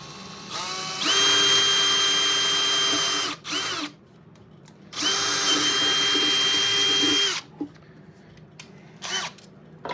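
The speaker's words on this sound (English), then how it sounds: "I don't like this paddle drill at all for cutting this. It chunks it." Electric drill spinning a paddle bit as it cuts material for an antenna grounding build, two long loud whining bursts with short pauses and brief trigger blips between.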